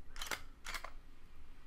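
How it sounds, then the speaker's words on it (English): Nikon D3100 DSLR taking a picture in quiet shutter mode: two soft mechanical clicks about half a second apart, close and clear over a faint room hiss. "So I'll use the quiet shutter and I'll just take a random picture,"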